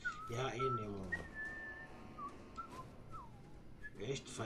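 A companion character in the video game Fallout 4 whistles a wavering, melodic tune, with several drawn-out notes and short slides. Nearby speech briefly overlaps at the start and end.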